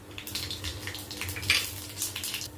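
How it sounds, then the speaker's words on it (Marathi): Cumin and mustard seeds splutter in hot oil in a kadhai, a dense crackling sizzle with rapid popping bursts throughout, close and fairly loud with no talking. "जिरा मोहरी छान तडतडले"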